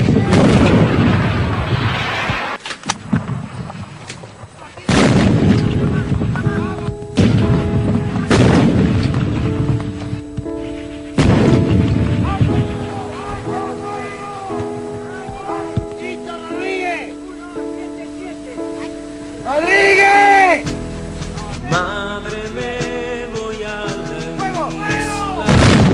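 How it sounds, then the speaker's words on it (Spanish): Bombing and explosions from Falklands War footage: repeated heavy booms and artillery-like blasts at irregular intervals, loud and close, with a voice speaking over parts of it. "Siguen las explosiones, se deberían ser originadas además de las bombas por los combustibles."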